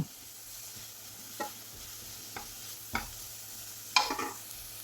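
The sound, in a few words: stirring chilli flakes and coriander powder in a frying pan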